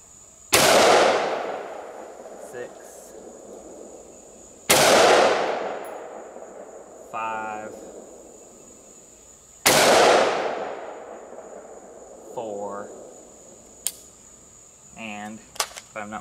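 Rifle gunshots firing .223/5.56 rounds at a range over a chronograph, three loud sharp reports spaced several seconds apart, each ringing out and decaying, with quieter clinks and handling noises between them.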